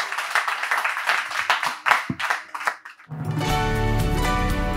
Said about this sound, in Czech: potlesk pro našeho hosta v Radio Kafe Vinohradská 12